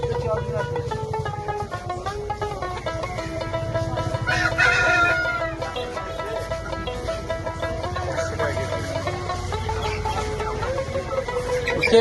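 Chickens cluck, with a brief crow, at a chicken stall in a historic rural village market in Bandaikhara, over the steady chatter and bustle of the crowd.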